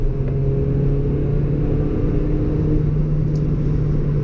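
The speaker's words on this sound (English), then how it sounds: "Oh, the sound, the induction sound." Supercharged Toyota Yaris GRMN engine heard from inside the car, a steady loud induction drone and low rumble holding at a constant pitch without distinct revving.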